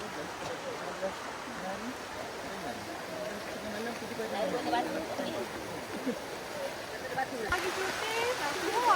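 Steady rushing of a river flowing over rocks on the Bukit Kutu hiking trail in Selangor, Malaysia, a constant watery wash with faint voices and movement mixed in.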